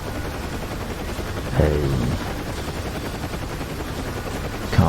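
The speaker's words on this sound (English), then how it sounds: "I've got 2 Gatling guns on the side of this thing" Gatling guns mounted on the side of a video game attack helicopter fire in a sustained rattling burst under steady rotor drone, with a brief spoken word near the start.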